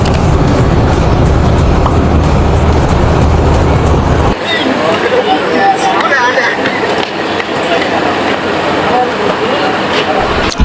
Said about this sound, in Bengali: এই মুহূর্তে মেহের থেকে আমাদের ট্রেন ছুটে চলেছে চট্টগ্রামের উদ্দেশ্যে।